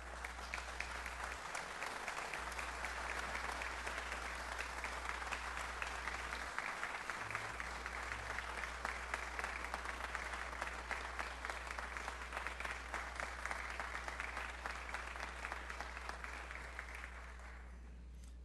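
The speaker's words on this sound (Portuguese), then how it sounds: "eu quero pedir a todos vocês uma salva de palmas para o Osmar Santos" An audience at a formal ceremonial session in a legislative chamber breaks into long, steady applause, a dense even patter of many hands sustained for nearly twenty seconds before fading at the end, heard from a distance.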